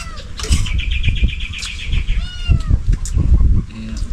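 Several cats meow repeatedly and loudly at close range in a home, with overlapping high-pitched calls and some brief flapping and rustling between them.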